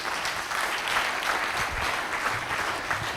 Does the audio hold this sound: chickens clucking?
no